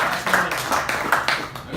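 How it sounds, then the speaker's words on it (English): Bitcoin meetup audience claps for a speaker in a small room, a short patch of scattered hand clapping mixed with voices talking over it. "Give round of applause"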